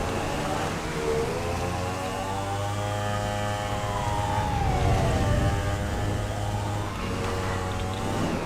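Ambulance siren wailing in GTA 5 during a street race, its rising and falling tone sweeping continuously over a steady engine drone, loud and close throughout.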